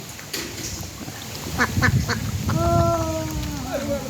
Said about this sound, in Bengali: আছে হাঁসগুলো কত আনন্দে জলের মধ্যে মাছ খাইতেছে